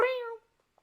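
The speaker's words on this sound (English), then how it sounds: "a cat leaps out of the thicket" In the Root Film video game, a single short meow from a cat leaping out of a thicket sounds clear and close, then fades into near silence with one faint tick.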